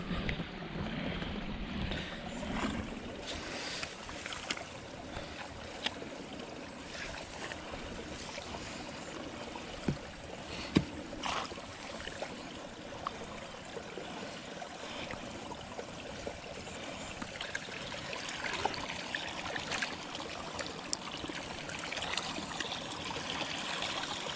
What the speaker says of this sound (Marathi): पाणी वगैरे चाललेलं आहे आता बऱ्यापैकी